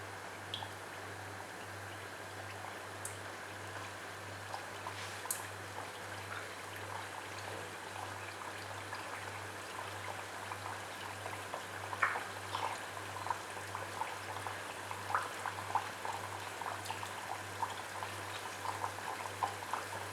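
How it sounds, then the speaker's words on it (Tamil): Gram flour snack batter frying in hot oil, a steady soft sizzle and bubbling with scattered crackles and pops, continuous and fairly quiet, with a low steady hum underneath. "இப்போது இதை வறுக்க ஆரம்பிக்கலாம்"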